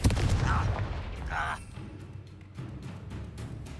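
Confringo blasting spell in Hogwarts Legacy, loud booming bursts with crackle up front, then a duller rumbling blast as the noise trails off.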